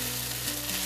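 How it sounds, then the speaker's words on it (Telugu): Meal maker soya chunks frying in oil for a dum biryani, giving a steady broadband sizzle that stays even and close throughout, with no talking. "మీల్ మేకర్ మంచి ఆయిల్లో ఫ్రై చేసేసుకుందాం"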